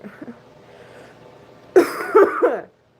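A woman with bronchitis breaks into a burst of loud, harsh coughs, three or four close barks in quick succession after a quiet stretch with faint voices in the background.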